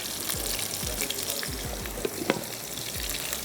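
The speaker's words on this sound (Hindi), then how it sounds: "अच्छा, प्याज फ्राई हो रही है" Onions fry in hot oil in a pan for a Pakistani beef bhuna masala, a steady close sizzle with light stirring scrapes and clicks, no talk.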